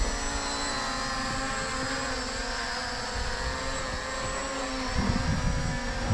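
An HT70 drone flies in sport mode, its propellers giving a steady close buzzing whine that swells slightly near the end.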